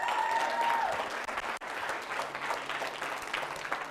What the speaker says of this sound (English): We have 5 sponsors. And yeah, give a round of applause.